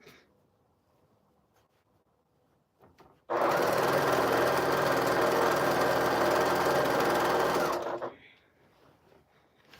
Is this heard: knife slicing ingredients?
no